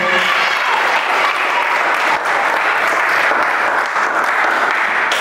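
A church congregation bursts into loud, sustained applause and cheering, a dense wall of clapping that fills the room throughout without pause.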